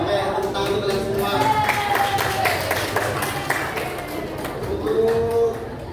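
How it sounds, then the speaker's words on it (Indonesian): Classroom applause for vocational high school students in a business and retail class, a scattered burst of clapping from the room that carries on under a teacher's ongoing talk. "Oke, tepuk tangan untuk kalian semua."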